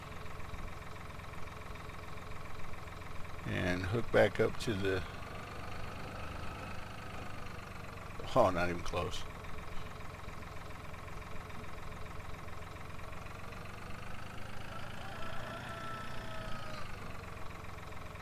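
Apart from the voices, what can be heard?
tractor engine idling in video game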